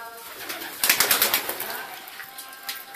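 Madrasi pigeons flutter their wings in a short burst of flapping, with faint soft cooing around it, fairly close and brief.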